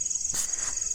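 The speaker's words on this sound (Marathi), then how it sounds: "मागे जर तुम्ही ऐकत असाल तर रातकिड्यांचा आवाज येतोय." Crickets chirp at night beside a large river in Konkan, a steady high-pitched trill running without a break through the whole second, with a brief broadband rustle in the middle.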